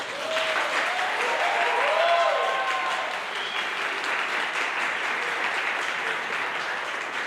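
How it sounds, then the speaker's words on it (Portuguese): An audience at a book launch applauds, with sustained dense clapping from a sizeable crowd that holds steady for several seconds, plus a faint voice briefly audible early on. "uma salva de palmas para a professora Ana"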